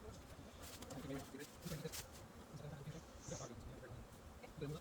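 Honey bees fanning at a hive entrance, a soft, steady buzzing drone heard faintly and close by, with a few brief louder buzzes of individual bees passing and quiet outdoor background.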